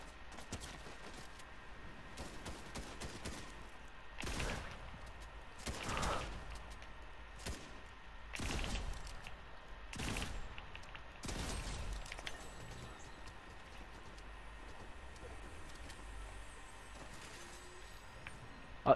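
Gunfire in the video game Fortnite: several short, sharp shots spaced a second or two apart over a steady background hum, at moderate distance, with no talk over them.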